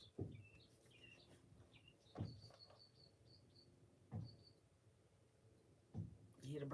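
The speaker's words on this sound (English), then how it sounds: "You hear the birds talking." Birds chirp outdoors in short, thin bursts of song, fairly faint and distant, while a voice talks over them with occasional louder thumps or bumps.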